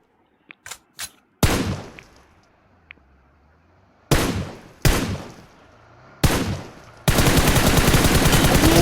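Gunfire in a solo-versus-squad battle royale video game: a few sharp isolated shots, then several loud decaying bursts, ending in sustained rapid automatic fire, all loud and close with no talking.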